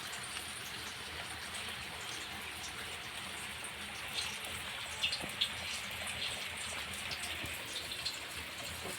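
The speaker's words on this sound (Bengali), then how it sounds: "বর্ষাকালের মতো বৃষ্টি হচ্ছে।" Heavy monsoon-style rain pours outside in a steady close hiss, with scattered louder drips and splashes rising above the continuous downpour.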